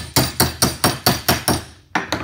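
A hammer taps a bent wire frame held in a vise while building a comb-honey frame from recycled materials, nine loud, evenly spaced metallic blows with a brief pause before the last two.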